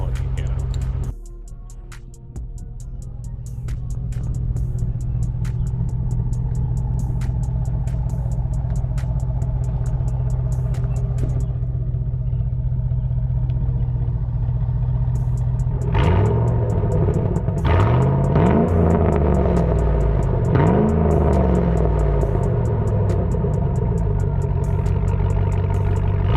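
A 2007 Chevrolet Avalanche Z71 V8 with its muffler deleted rumbles at a steady loud idle, then the revs rise and fall several times in throaty surges, close to the truck.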